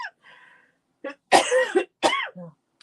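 A woman with a cold coughs in a few sharp, close bursts with some throat clearing, in a quiet room while making paper cards.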